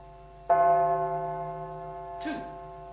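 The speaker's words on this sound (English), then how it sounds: "he listened for the striking of the church bell" A church bell strikes the hour with one clear, resonant stroke that rings out and slowly fades, followed by a brief, softer noisy sound as the tone dies away.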